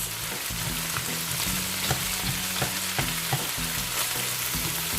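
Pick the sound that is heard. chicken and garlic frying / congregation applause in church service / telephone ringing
chicken and garlic frying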